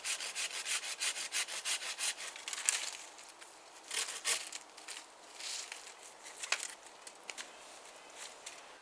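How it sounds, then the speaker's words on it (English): A folding saw cuts through a wooden stick outdoors, a series of raspy back-and-forth strokes at an uneven pace, close and moderately loud, with short pauses between bursts. "So I'm going to go and cut myself a stick"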